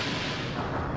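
Cannon fire rumbles in the airship battle of Skies of Arcadia, a single sustained heavy blast with deep booming roar and no voices.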